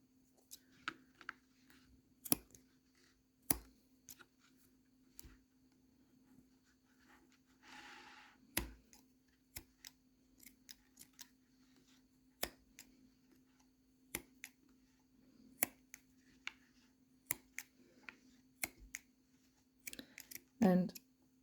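Scissors snipping off macrame cord ends, a scattered series of sharp, quiet clicks and snips at irregular intervals over a low steady hum, with a brief rustle partway through.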